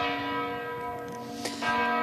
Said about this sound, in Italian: A mezzogiorno sentite anche le campane, ma a brevissimo termineranno di suonare.